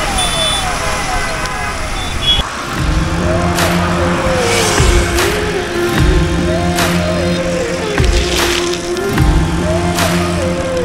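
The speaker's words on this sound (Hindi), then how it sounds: "ये साइड से कोई नेता वगैरह की गाड़ी जा रही है शायद" Vehicles pass along a busy Indian highway beside a Royal Enfield showroom, with a steady roar of traffic and rising and falling siren-like tones that sweep past repeatedly at close range.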